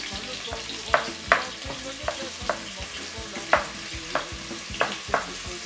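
Onions frying in a pan with a constant low sizzle, punctuated by a series of sharp utensil scrapes and taps roughly every half second as they are stirred.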